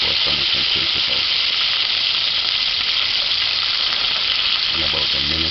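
Chicken pieces frying in hot oil, a loud, dense, continuous sizzle and crackle with occasional stirring clatter, no pauses throughout.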